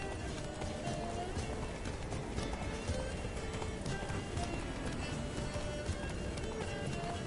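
Hooves clip-clop in a fast, steady gallop as a horse runs in The Witcher, a dense continuous drumming under game music and ambience, with occasional hooves louder than the rest.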